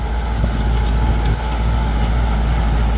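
A new Kubota L5018 tractor pulls a six-disc plough through good soil in a field, its engine a steady, loud, close drone with heavy low rumble and wind buffeting. No one speaks.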